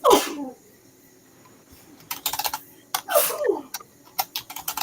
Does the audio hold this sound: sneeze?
yes